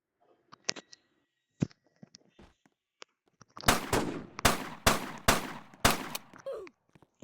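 Shotgun blasts in a video game arrive as five loud, evenly spaced booms in quick succession, preceded by scattered faint clicks and small in-game noises.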